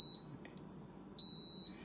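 A Power XL cooker gives two sharp electronic beeps as it is switched to its roast setting: a short beep, a pause, then a longer one, in a quiet kitchen.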